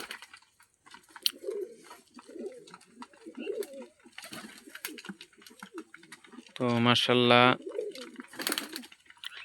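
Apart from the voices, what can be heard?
pigeons cooing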